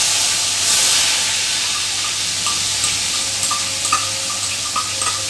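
Onion paste with asafoetida sizzles in a deep kadhai, a steady close hiss with faint stirring clicks and a low hum underneath.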